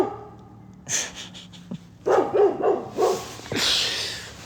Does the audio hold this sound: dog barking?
yes